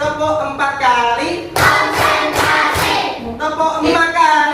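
A school class claps in unison four times, sharp near claps in a quick burst between a teacher's spoken instructions.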